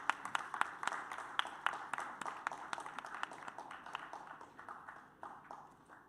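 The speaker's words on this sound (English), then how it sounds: "Round of applause for them." A small audience applauds students with sparse, crisp individual handclaps at a fairly quiet level that thin out gradually toward the end.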